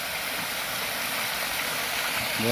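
A village canal filled to the brim with water rushes past in a steady, even roar, close and unbroken for a couple of seconds.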